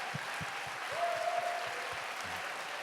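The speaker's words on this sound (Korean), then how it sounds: "우리 축복의 박수 함께 보내도록 하겠습니다." Faint, distant applause from a church young-adults congregation at a Sunday worship service, a soft steady patter sustained throughout, with a brief tone passing through the middle.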